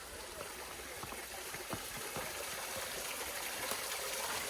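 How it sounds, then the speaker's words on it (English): Steady broadband rush of a decent-sized waterfall along a trail in the north central Arkansas Ozark mountains, continuous and fairly close, with no talking. "here's our first decent sized waterfall"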